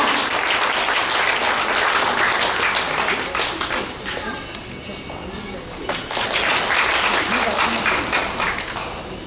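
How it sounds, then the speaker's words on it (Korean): An audience at a 5.18 Democratic Uprising memorial ceremony in Suncheon applauds to welcome the next speaker, sustained crowd clapping that dips briefly midway and then swells again. "박수로 맞이해 주시기 바랍니다."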